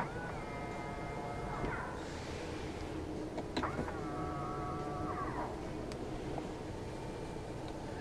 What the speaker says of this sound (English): To fold the side mirrors in from the inside, press the L and R buttons together at the same time.